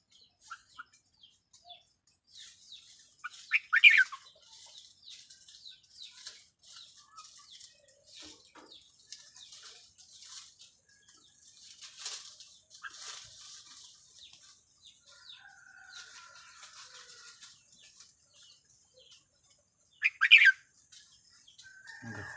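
A couple of sharp red-whiskered bulbul calls ring out near the start and again near the end, over a faint background of distant chirping and twittering.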